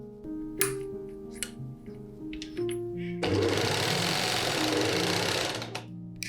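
A sewing machine stitches stays with liquid organza, first in short stop-start bursts with clicks between them, then running steadily and loudly for about three seconds before stopping.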